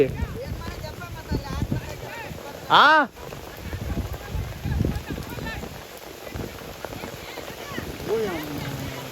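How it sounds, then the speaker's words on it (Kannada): Rain falls on a rice paddy during planting, a soft, steady patter heard outdoors while people talk nearby. A brief loud tonal sound cuts in partway through. "ಬಂತಪ್ಪ ಮಳೆ"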